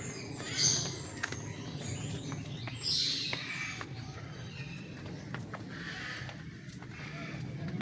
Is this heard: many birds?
yes